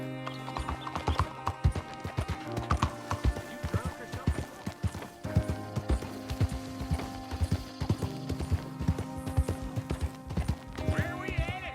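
Horse hooves clip-clop in a steady, close rhythm in Red Dead Redemption 2, with a neigh and spoken dialogue layered over the galloping.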